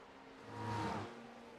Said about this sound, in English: Be the sound of engines from iRacing.